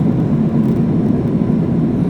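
Steady, loud broadband engine roar of an airliner in flight on a trip to Kingston, Jamaica, a constant cabin drone with no pauses or voices throughout.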